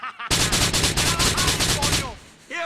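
Sustained automatic gunfire in Grand Theft Auto IV, a dense, loud rattle of rapid shots lasting about two seconds, then a brief pause and a short voice afterward.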